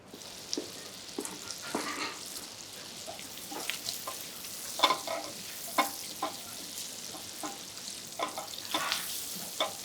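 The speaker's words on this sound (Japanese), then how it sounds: "ベーコンを入れます 。で、ここでよく炒めます。 ちょっと強火にしましょう。" Bacon fries in a pan over high heat, a soft bed of sizzle broken by scattered sharp crackles, pops and occasional stirring scrapes, moderately close.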